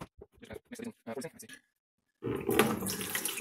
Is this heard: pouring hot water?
yes